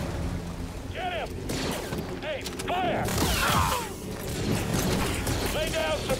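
Blaster fire in Star Wars Jedi Fallen Order, with short swooping zaps repeating at irregular intervals amid a loud, busy combat din and voices.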